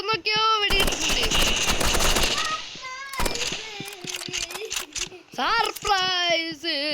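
Rapid bursts of video game gunfire from the shooter game Rivals crackle loudly for about a second and a half, then give way to excited voices talking over sparser shots and in-game sounds.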